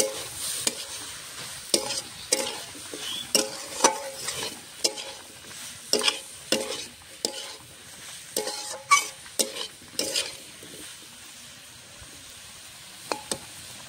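A spoon stirs a dry beans, pea, potato and tomato vegetable curry in a pan, with repeated scraping strokes and knocks at an uneven rhythm over a soft background sizzle.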